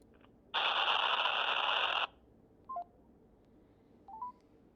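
Loud, steady telephone dialing tone on a call placed over speakerphone, holding for about a second and a half, followed by two short, fainter beeps. No talk.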